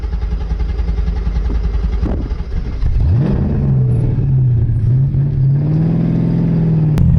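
Ford Mustang with a 7.3 Godzilla V8 at a drift event: a car passes and fades, then the V8 roars up and holds a loud, steady high rev close by.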